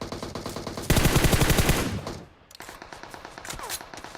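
Rapid automatic gunfire from a player in PUBG Mobile comes as a dense burst of loud sharp shots in quick rhythm, then a short lull, followed by further repeated cracks at a slightly lower level.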